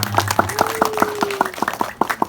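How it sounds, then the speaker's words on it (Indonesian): An audience at an Islamic religious sermon claps in sharp, evenly spaced beats, close and fairly loud, while a faint steady tone hums in the background. "tepuk tangan untuk Ibu Musrifah"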